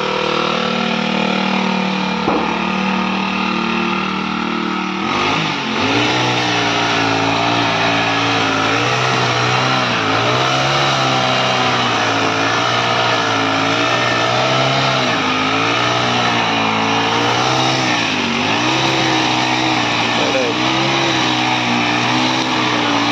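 A grass cutting machine's engine runs loud and steady throughout, its pitch rising and falling in repeated revs after the first few seconds.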